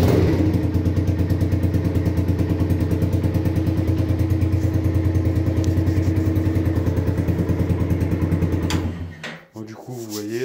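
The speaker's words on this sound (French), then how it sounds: "la moto elle démarre super bien, aucun problème" A Yamasaki Roadster RS 50cc motorcycle engine idles indoors, a steady close, loud putter with a fast regular pulse that keeps up for about nine seconds before cutting off into brief clatter.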